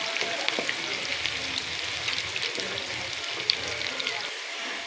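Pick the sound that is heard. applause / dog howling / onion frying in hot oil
onion frying in hot oil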